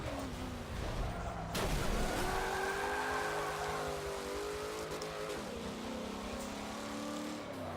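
A modified car drives along with its engine running steadily, a loud continuous drone with a slow rise in pitch as it pulls, the sound staying close and even throughout without speech.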